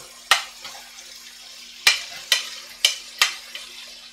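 Steady low sizzle of carrots stir-frying in a pan with onion, broken by several sharp scraping clatters as a utensil stirs and tosses the pieces.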